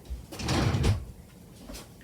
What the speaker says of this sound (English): my cat just opened my drawer